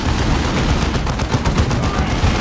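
Tarantula turrets and mines firing in Warhammer 40K Dawn of War 2: a dense, loud, unbroken wash of rapid gunfire and blasts with no pauses.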